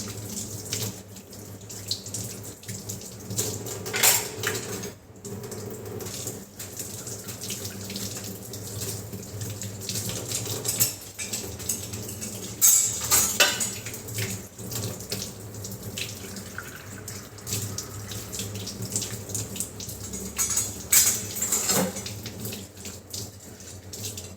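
Dishes, pots and pans being washed at a kitchen sink, with a tap running steadily and water splashing while items knock and clatter intermittently throughout.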